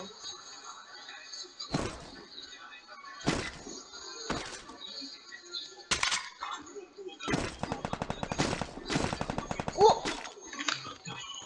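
Gunfire in the video game Free Fire: several sharp single shots spaced a second or two apart, then a dense rapid automatic burst rattles out, loud and close.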